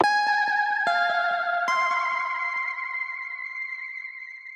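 Synthesized whistle-like tones from the Omnisphere preset Whistling Suzuki play a few sliding notes with wavering vibrato, each ringing out into a long, shimmering reverb tail that slowly fades.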